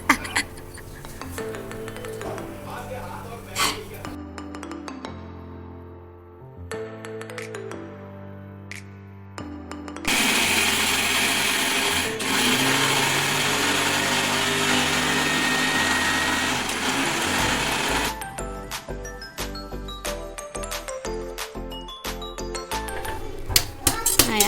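Fried dough pieces are ground to powder in a kitchen mixer grinder, a loud continuous whirring roar with intermittent bursts and short stops between runs.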